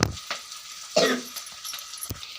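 Green chillies and curry leaves crackle and sizzle in hot oil while being stirred for a Tamil curry, with a sharp spluttering burst, a few clicks and a soft continuous hiss.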